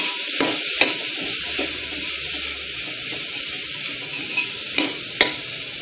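Spices and a green chili sizzle steadily in a hot pan for millet biryani, a close, continuous frying hiss punctuated by a few sharp scraping stirs, with no talking.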